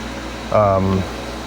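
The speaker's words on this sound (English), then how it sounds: "today it's just going to be the air conditioner" Dometic RTX-2000 rooftop air conditioner running in a Ram Promaster 3500 extended van, a steady low hum under a brief burst of speech that rises over it for about half a second.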